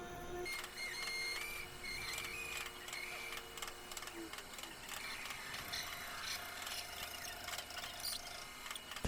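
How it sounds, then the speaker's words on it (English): On a lathe, a drill bores slowly into a piece of aluminum lubricated with cutting fluid. It makes a faint, close mechanical scraping and rubbing with brief thin squeals, steady throughout. "Slowly move the drill into the piece of aluminum."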